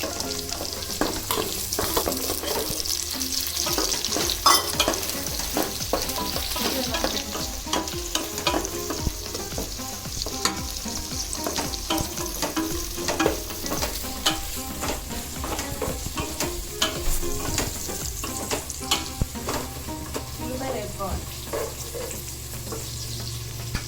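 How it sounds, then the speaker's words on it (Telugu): Long-sliced onions and green chillies frying in a pan for baby potato pulao, with a steady close sizzle and frequent scraping stir strokes throughout. "మనం ఉల్లిపాయలు పొడుగ్గా కట్ చేసుకుని ఉల్లిపాయలు ఇందులో వేసుకోవాలి. ఉల్లిపాయలు, పచ్చిమిరపకాయలు కూడా."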